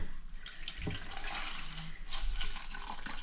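Water splashes and streams steadily as a cloth is wrung out by hand over a sink, a close, continuous rushing flow with brief drips, heard alone without talk.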